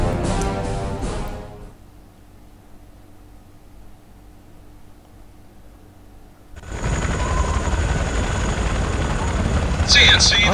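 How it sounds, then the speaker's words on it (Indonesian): Helicopter in flight in the Counter-Strike: Condition Zero game, a steady broadband rotor and engine roar that drops away to a low hum, then returns loud and sustained with a brighter whine on top. "kita berada di helikopter yang sedang terbang."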